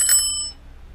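A mounted bicycle bell rings twice in quick succession, a bright metallic ding-ding close by, then decays into a quiet room with no talk.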